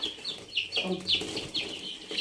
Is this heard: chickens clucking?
yes